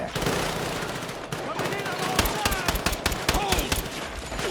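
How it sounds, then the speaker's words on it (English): Pistol gunfire in the Battlefield 6 campaign, a run of sharp shots that come faster and thicker in the second half over a dense, noisy battlefield din, with other gunfire and distant blasts around them. "Time for me to miss every bullet with the pistol"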